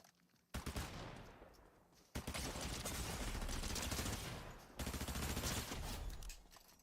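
Rapid bursts of gunfire in a Fortnite match, coming in three long sustained volleys with sharp onsets and brief gaps between them, loud and dense, with no voices.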